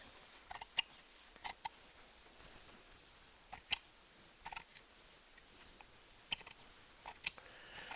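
Scissors cut fabric up to a serged stitch seam while piecing a jelly roll quilt top. The snips are crisp, near and quiet, coming in scattered single and paired clicks over a faint background, with no talking.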